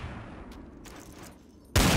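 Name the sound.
machine gun fire in the video game Battlefield 3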